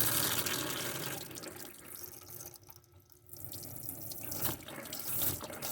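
Cold water runs from a faucet in a Hymer 554 Swing camper, a close, continuous splashing hiss that dips briefly in the middle before surging again, with no talking.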